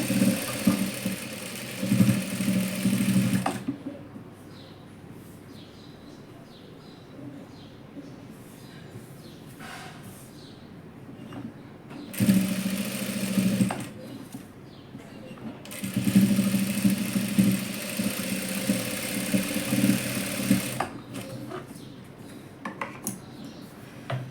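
A sewing machine stitching a dress, running in several bursts of steady mechanical whirring and rattling, loud and close, separated by quieter stretches where someone talks.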